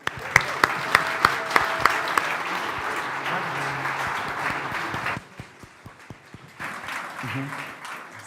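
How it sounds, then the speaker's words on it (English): Applause from a hackathon solution-day audience, starting with a few sharp, loud claps over a steady wash of clapping that fades quieter midway, then swells again with some murmuring voices. "Big applause"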